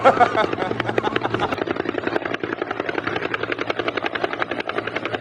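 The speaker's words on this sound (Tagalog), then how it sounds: "Ang lapit lang ng helicopter ah." A helicopter flies close overhead, its rotor making a steady, loud, rapid chop throughout with a low engine drone underneath.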